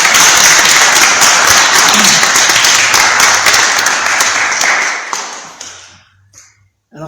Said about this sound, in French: Peut-être qu'on peut l'applaudir.